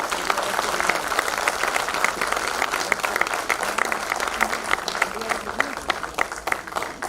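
At a trauma and mass casualty workshop, an audience claps for several seconds with distinct, uneven hand claps, moderately loud, with some voices murmuring underneath.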